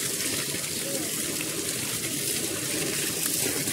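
Water runs from a village water spout in Lwang, making a steady, close rushing wash that never breaks or changes.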